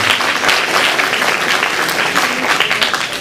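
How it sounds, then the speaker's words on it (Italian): Audience applause fills a theater at a town band concert, a dense, steady wash of many hands clapping close and loud for the full stretch, with no pause or talk. "Quindi vi chiedo un grande applauso."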